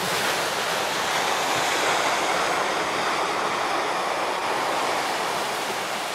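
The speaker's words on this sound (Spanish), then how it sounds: "Aquí está el río." A river flows into the sea at Punta Negra beach, where the stones lie, making a steady, loud, broadband rush of moving water and surf with no voices.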